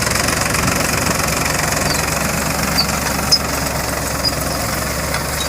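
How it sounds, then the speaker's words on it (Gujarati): A tractor engine churns steadily while ploughing a field, its knocking diesel rumble loud and near, with faint high squeaks and a few light clanks over the drone. "હવે ટ્રેક્ટર આવી ગયું છે ખેડવા"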